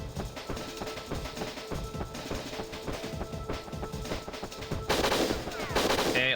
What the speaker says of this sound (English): you running from gunfire coming at you every which way to a door at the very end